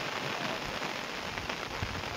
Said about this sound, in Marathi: त्यांना सांगा लई जोराचा पाऊस आलाय